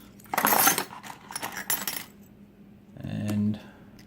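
A bunch of Medeco lock keys jangling and clinking in bursts, close and metallic, with a brief heavier rattle near the end.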